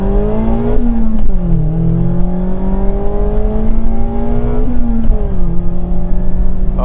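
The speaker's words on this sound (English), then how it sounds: "Let's go ahead and do a little bit of a launch" A 2022 Mazda MX-5 Miata Club sports car engine revs hard through several gears in a launch from standstill, pitch climbing and dropping at each shift, close and continuous.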